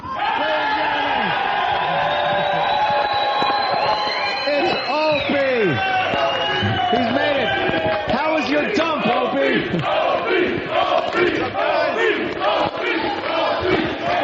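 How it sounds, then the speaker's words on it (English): A huge crowd roars and cheers in an ovation welcoming a radio show back on the air, a dense sustained wall of yelling and whooping voices, loud and close, with individual shouts rising above the mass. "it was a huge ovation from the crowd welcoming us back to the satellite airwaves"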